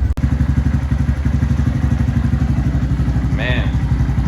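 A 2017 Honda Grom motorcycle that has sat all winter on a fresh battery runs close by with a loud, steady, chugging single-cylinder idle after a sharp start, and a brief whistle-like tone cuts in near the end.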